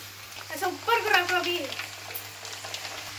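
About 50 grams of garlic fries in oil for a mango pickle tempering, a soft steady sizzle with a few louder crackles, while someone speaks over it.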